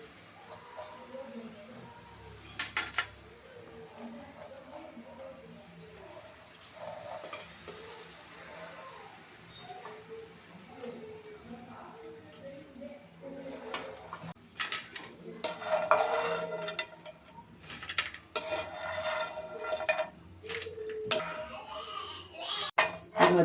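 Fried potatoes are lifted out of oil and onto a plate, with clinking utensils and metal pan scrapes over a low background sizzle, growing busier and louder toward the end.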